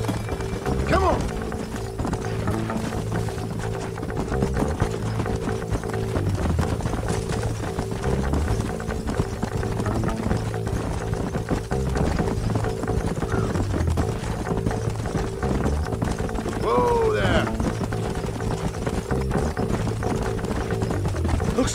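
Horses galloping in the Red Dead Redemption video game, a steady rapid clip-clop of hooves running continuously alongside mechanical rattles, with occasional voices in the background.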